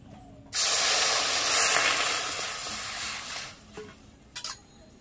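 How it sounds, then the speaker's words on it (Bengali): Water poured into a pan of fried mung dal bursts into a loud, steady hiss of steam that fades over several seconds, followed by a couple of brief clatters. "এবার একটু জল দিয়ে দেবো"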